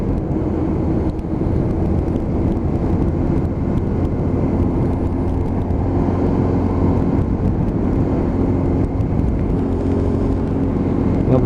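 Loud, steady road roar from a Lexmoto LXR motorcycle cruising on a dual carriageway, with a car running close behind over the rider's shoulder; constant wind and engine drone throughout, no talking.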